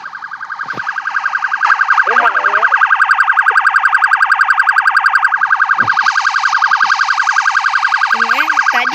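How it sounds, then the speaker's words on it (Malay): A loud, rapid warbling electronic motorcycle siren in the Roblox video game wails continuously and close, pulsing in a steady fast rhythm, with a few short mechanical blips beneath. "siren motor memang kuat"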